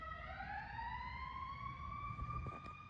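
A loud emergency siren sweeps upward and holds, the vehicle passing close with traffic rumble underneath.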